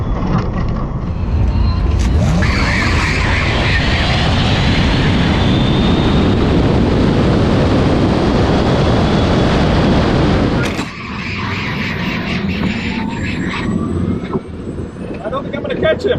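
A Porsche Taycan Turbo S and a Tesla Plaid launch hard in a drag race with their tires spinning. A loud, sustained rush of road and wind roar carries a rising electric whine, then drops off sharply near the end.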